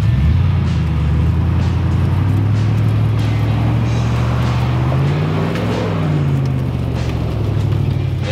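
A V8 Land Rover crawls over an obstacle on a rugged Australian 4WD track, its engine a steady loud rumble close by that rises and falls slightly with throttle throughout.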